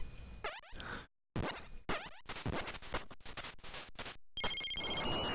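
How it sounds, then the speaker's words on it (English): A cell phone ring tone chirps in steady bursts near the end, after a run of scratchy, choppy electronic game noises and a brief dropout. "Why is that cell phone ringing"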